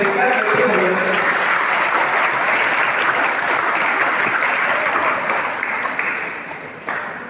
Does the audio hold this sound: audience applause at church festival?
yes